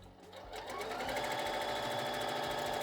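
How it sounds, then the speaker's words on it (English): A household sewing machine, borrowed and malfunctioning, runs on by itself at high speed, its rapid mechanical whir and needle clatter building from a slower start into a steady, loud, continuous run with no talking. "I was using my mom's machine and it suddenly went rogue on me."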